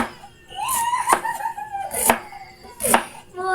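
A knife chops cabbage on a board in a home kitchen, three or four loud, sharp chops at uneven spacing, close by, with a rooster crowing in the background.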